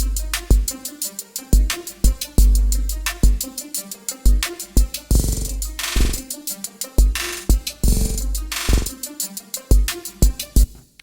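Synthesized sequenced beat built from LFO modulation in Xfer Records Serum: punchy, rapid rhythmic pulses with deep low thumps and brighter stuttering bursts, loud and alone, repeating in a tight electronic pattern.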